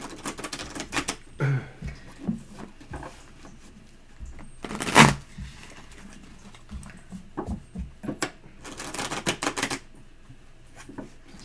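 Tarot cards are shuffled in a series of quick papery riffles and taps, soft and close, with a few sharper flicks spaced across the clip.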